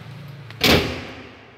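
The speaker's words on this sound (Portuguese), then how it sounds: "fechar as portas." Church doors swing shut with a single solid thud and a short ringing decay in a quiet, reverberant church interior.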